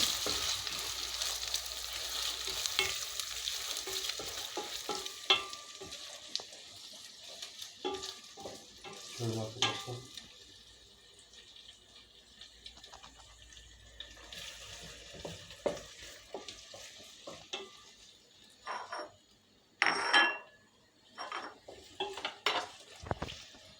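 Onions and meat sautéing for maqluba rice, with a steady sizzle under repeated scrapes and clanks of a spoon stirring in the pot, some louder metallic knocks, close and without speech.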